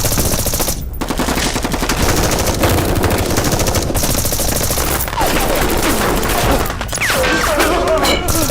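Machine guns open fire in a war drama battle scene, sustained loud bursts of automatic gunfire rattling continuously with brief gaps, dense and close.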